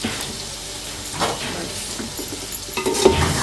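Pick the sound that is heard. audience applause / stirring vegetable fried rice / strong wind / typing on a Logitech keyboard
stirring vegetable fried rice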